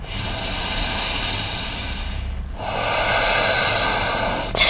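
A single long exhale during an Ashtanga prenatal yoga sequence, a steady breathy rush close to the mic that briefly pauses, then resumes with a sharp noisy burst at the end.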